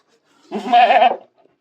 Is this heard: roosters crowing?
no